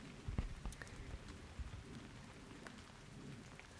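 Steady rain patters on a surface, with scattered louder drops and a faint low rumble underneath, fairly quiet and continuous.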